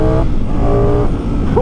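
Ducati Streetfighter V4 S motorcycle accelerating hard on asphalt, a loud, close engine roar that climbs in pitch with rising revs and continues steadily throughout.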